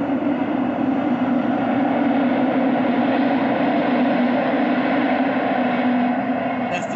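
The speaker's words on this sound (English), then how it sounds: "that's the train." A train passes close by, a loud, steady rumbling roar that holds at the same level throughout with no break and no voices over it.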